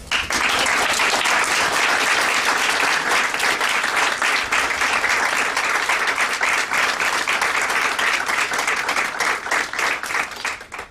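A large conference audience at CPAC 2010 applauds after Congressman Darrell Issa's introduction, a dense, steady roar of clapping that holds at full strength for the whole stretch and only begins to thin at the very end.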